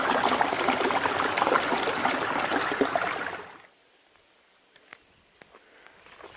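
Water trickling and splashing steadily as a water bag is filled at a beaver pond on a trail, close and fairly loud, stopping abruptly midway to leave near silence broken by a few faint drips and small clicks.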